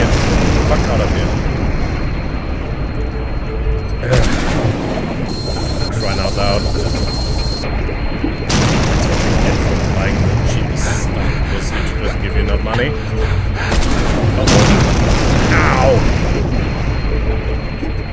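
Explosive booms and rumbling blasts from the survival game Stranded Deep, loud and sustained with repeated bursts, while someone talks over much of it.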